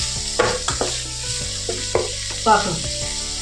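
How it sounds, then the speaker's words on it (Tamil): Eggplant sautés in a pan with a bright sizzle broken by several scraping stirs against the metal, close up, while a voice speaks briefly over the cooking. "2 மினிட்ஸ் நல்லா வதக்கிட்டு"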